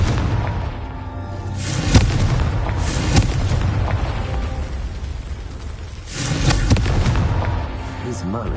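Confringo spell blasts in Hogwarts Legacy: loud booming explosions that repeat, with sharp bursts around every second or two over a constant rumbling game soundscape, while a voice speaks briefly.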